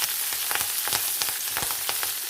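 Green chillies and curry leaves fry in hot oil for a lemon curry, a steady close sizzle with scattered crackles and spatters throughout, no voices.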